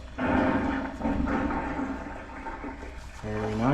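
A drain cleaning water jetter runs steadily, a dense rushing, pumping roar of forced water with mechanical drone and a brief dip midway before surging back.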